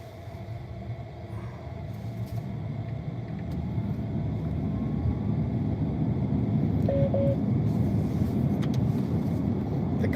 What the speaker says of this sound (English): I'm cruising around right now in the Cybertruck